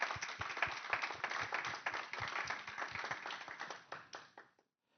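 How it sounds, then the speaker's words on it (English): A conference audience claps for two presenters at the close of a learning lab session: brisk, fairly close applause of many hands that tapers off and stops near the end. "I'd like maybe a last round of applause for our two presenters"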